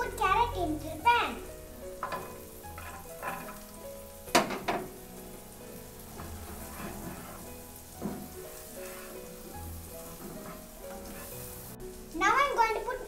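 Capsicum and carrot fry in a pan with a soft steady sizzle, broken by occasional stirring scrapes and clatters; a voice talks intermittently over the cooking.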